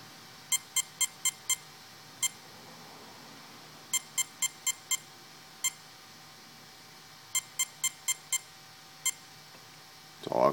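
Castle Mamba speed controller emitting programming beeps: short sharp tones in spaced groups of five or six followed by single beeps, clean and moderately loud over a quiet hiss, no talk.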